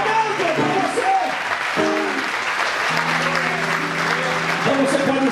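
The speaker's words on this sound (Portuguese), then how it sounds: "Aplauda o dono do avivamento para você." A church congregation applauds steadily during a revival service, a dense wash of clapping heard close by. Voices speak or sing over it throughout.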